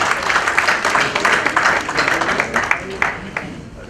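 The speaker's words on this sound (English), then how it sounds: "I think a big round of applause for" A large crowd at an anniversary foundation day celebration gives a loud round of applause, dense clapping that stays steady and then thins into scattered claps.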